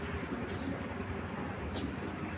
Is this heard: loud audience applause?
no